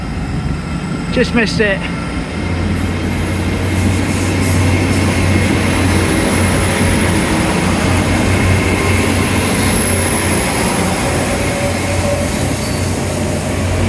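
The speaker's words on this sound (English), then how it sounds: "That's the train I would have been getting home." A train rumbles past close by with a continuous roar and high squealing wheels, after a brief remark from a nearby voice at the start.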